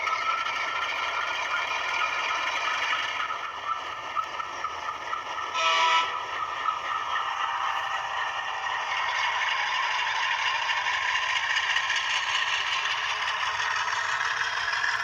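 A GE diesel locomotive sound effect plays from a DCC sound decoder in a Bowser SP&S RS3 model train, giving a steady engine drone with a short horn-like burst near the middle and no talking.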